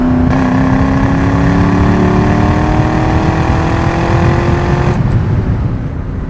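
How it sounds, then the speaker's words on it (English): A 2003 Ford Mustang Mach 1 with a 5-speed and factory Ford mufflers, heard while driving as a loud, steady exhaust drone that rises in pitch as it accelerates, with a brief shift near the end. "as you can hear, the Ford mufflers do still sound good on the car, but it's on the quieter side of things"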